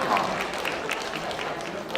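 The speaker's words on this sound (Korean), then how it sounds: "박수 한 번 크게 보내주시기 바랍니다" Steady applause from an audience at a children's performance, continuous clapping with a crowd murmur throughout, moderately loud and even.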